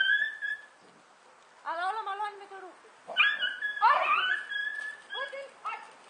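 Pet dog whimpering and whining at home, several drawn-out high nasal whines with pauses between, close to the microphone against a quiet indoor background.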